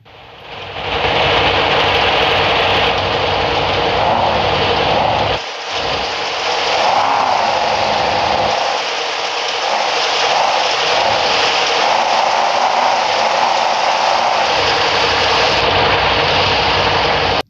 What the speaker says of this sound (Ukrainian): Давайте трохи погазуємо, послухайте звук.